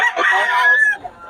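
A Golden Boy gamefowl rooster crows once, loud and close, a long rising-then-level call lasting about a second before trailing off.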